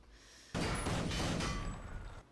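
A short burst of gunfire from a TV show, several rapid cracks fused into a loud, dense volley lasting about a second and a half before tapering off.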